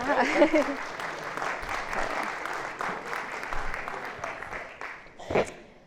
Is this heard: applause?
yes